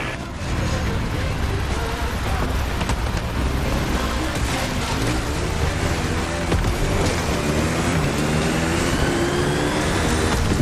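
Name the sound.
Kawasaki KX450 dirt bike engine in video game The Crew Motorfest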